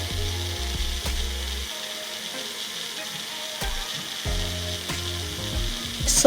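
A blender spins a fruit smoothie nearby, a steady loud whir with intermittent low chugging surges and a couple of sharp clicks, no speech present.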